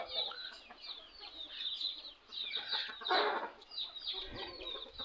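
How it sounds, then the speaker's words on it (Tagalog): Pet chickens at a mountain farm cluck and chatter busily close by, with several overlapping bursts of clucking and brief squawks throughout and no speech. "nakakatuwa tingnan yung mga alagang manok dito ni partner"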